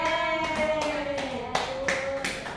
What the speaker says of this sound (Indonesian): Oke, beri tepuk tangan dulu ya.